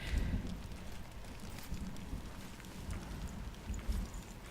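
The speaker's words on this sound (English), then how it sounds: "Oh, the rain's nice." Steady rain falls in the video game Hellblade, a soft continuous patter with faint scattered drips and low rumbling underneath, no voices.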